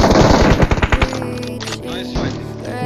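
Rapid bursts of automatic gunfire crack in a shooting video game, a dense volley of sharp shots up front that thins into scattered reports and in-game effects, with a player talking over it.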